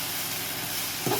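Noodles stir-fry in a pan on a high stove flame, a continuous loud sizzle and hiss with a brief scraping stir near the end; no talking.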